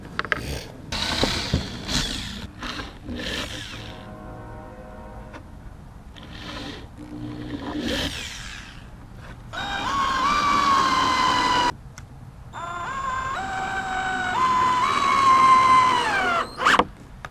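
A power saw cuts a 3-inch board for a custom Big Green Egg table: a few knocks and handling sounds, then two long, loud, whining cuts separated by a brief gap.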